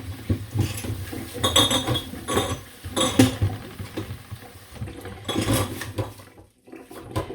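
A homemade pickle jar being rinsed on the outside by hand: close clinks and knocks of glass, with water splashing and trickling in uneven bursts and no talk.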